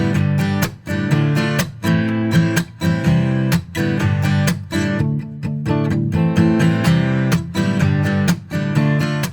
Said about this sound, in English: an inevitable moment is that of discovering percussive elements like a muted strum or even palm mutes